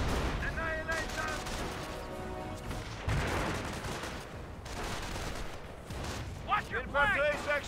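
Company of Heroes battle on the Lorraine map, with continuous bursts of machine-gun and rifle fire and heavier booms under overlapping in-game voices and commentary, the combat rumbling steadily throughout.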